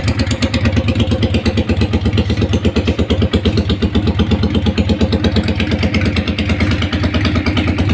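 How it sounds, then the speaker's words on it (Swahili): Modified Suzuki VZ400 motorcycle idling close by on a temporary exhaust, a steady, even throb with a rhythmic lumpy beat and slight mechanical clatter, running alone without talk. "kama mnavyosikia pikipiki na nguruma iko vizuri kabisa"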